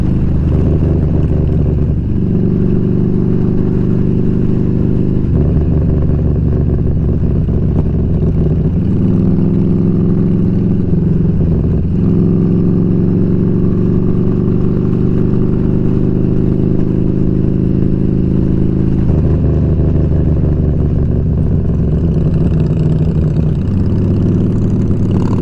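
Motorcycle engine with its cover off running steadily close by, pitch rising and falling as it revs and slows, with no voices over the loud continuous drone.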